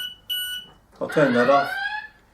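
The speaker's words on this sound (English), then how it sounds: "otherwise the alarm will return every 10 seconds. So there it is again." Plumb Guard V3 safety device alarm beeping again, a short pair of shrill electronic beeps followed at once by someone talking over the end.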